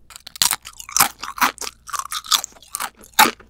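Crisp, loud crunching of an air-baked snack being chewed up close, a run of irregular bites and grinding crunches with brief pauses, no talking.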